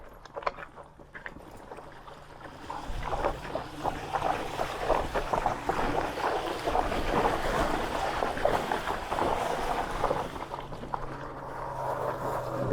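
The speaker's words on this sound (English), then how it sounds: "gotta go through the river." An electric mountain bike splashes through a river crossing on a hot day, water churning and spraying in a rising, rushing wash that grows louder and stays steady to the end.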